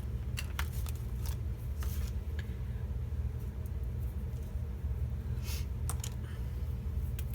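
Sharp, intermittent snips of adhesive-foam scissors cutting through adhesive foam, scattered clicks over a constant low rumble of background noise.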